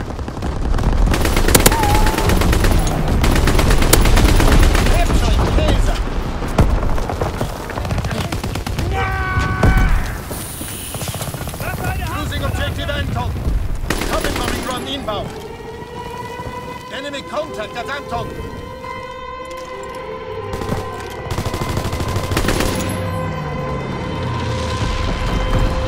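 Call of Duty WWII battle on the Shipment map: a bomber drops incendiary bombs amid dense machine-gun fire, sustained loud explosions and roaring fire, with a siren-like whine and a game announcer's voice over the chaos.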